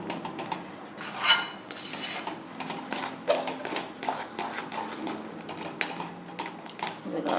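A jowar and semolina mixture is stirred in a pan, giving repeated clinks and scrapes of a utensil against metal in an uneven rhythm, fairly close, with a voice speaking faintly in places.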